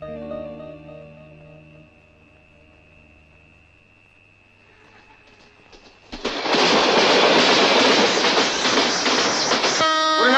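A train rumbles loudly along the tracks after a quieter stretch of low tonal hum, the roar building suddenly and staying heavy and continuous. No one speaks.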